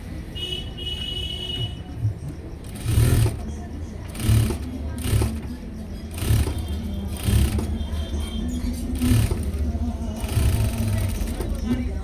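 A sewing machine stitches a padded blouse in bursts of steady whirring, starting and stopping several times at close range, while someone talks over it.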